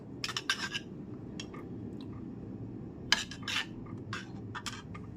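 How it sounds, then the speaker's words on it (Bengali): A utensil clinks and scrapes against a bowl while beaten egg is mixed with salt and ground pepper, in short irregular bursts of tapping with quiet gaps between. "লবণ আর গোলমরিচের গুঁড়োটা খুব ভালো মতো মিশিয়ে নিচ্ছি"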